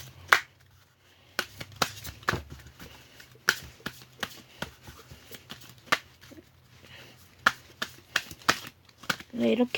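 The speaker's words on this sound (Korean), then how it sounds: "카드 다 섞였는지 보고 다안 섞였으면은 이렇게 좀 섞어주고 한 번 더 섞고" A trading card game starter deck gets shuffled by hand in a string of sharp, close riffling and tapping bursts at irregular intervals, with a voice talking in the background.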